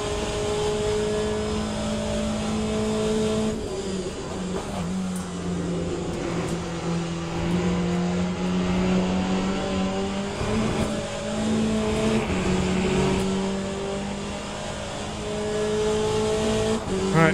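Race car engines, including Porsches, in the Le Mans Ultimate video game: a loud, sustained engine whine rising and falling through gear shifts, with other cars audible nearby throughout.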